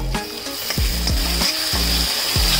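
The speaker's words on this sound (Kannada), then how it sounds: "ಅರ್ಜಿಟ್ಕೊಂಡಿರೋ ಮಸಾಲೆ ಸೇರಿಸ್ಕೊತಾ ಇದ್ದೇನೆ. ಇದನ್ನು ಒಂದು 2 ನಿಮಿಷ ಹುರ್ಕೋಬೇಕು." Ground masala paste for masoor dal sizzles steadily in a hot pan, with regular scraping strokes of a stirring spoon close by and no talking.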